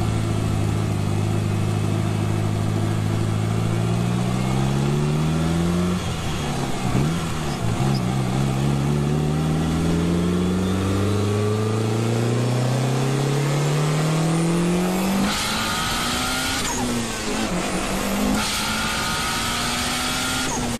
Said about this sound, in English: That thing sounds absolutely disgusting with external wastegate and everything.